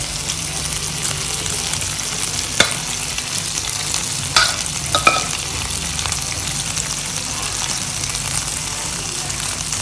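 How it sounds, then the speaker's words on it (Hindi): Leftover chicken marinade liquid is poured over chicken skewers in a hot pan, giving a steady close sizzle and frying hiss with a few soft clinks and stirring sounds. "और ये जो चिकन का मैरिनेशन का लिक्विड बचा था वो मैं अब इस पर दोबारा डाल दूँगी।"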